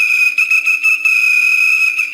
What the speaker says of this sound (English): Give him a little bit of that whistle